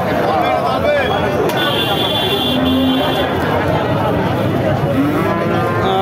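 A bull lows loudly a couple of times over a busy outdoor cattle market crowd, with people chattering throughout and a faint engine hum.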